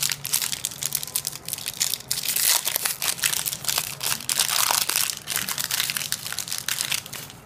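Crinkly plastic wrapper of a Luvit Silky Smooth chocolate bar being torn open and crumpled by hand, a dense run of close, loud crackles and rustles lasting several seconds.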